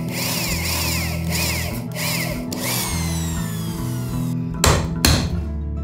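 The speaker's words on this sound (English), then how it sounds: "When chiseling off the exposed wood from the bag, I make sure to set a board on the front side." A chisel is driven into a thick Japanese cypress board with repeated hammer blows, sharp close strikes over a steady mechanical hum, two louder knocks near the end.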